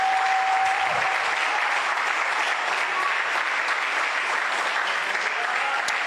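Church congregation applauding and cheering for God, sustained loud clapping from a large crowd with a few faint shouts mixed in throughout.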